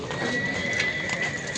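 Horses at a livestock market in Sokuluk near Bishkek give a brief neigh amid clip-clopping hooves and general market bustle, moderately loud and close.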